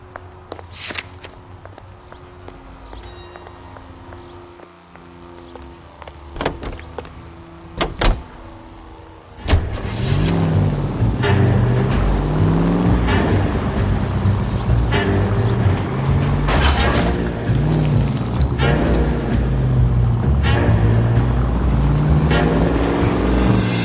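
Car driving in the L.A. Noire video game: a quiet interior with scattered taps gives way around ten seconds to a loud, steady engine and road rumble with shifting tones that runs to the end.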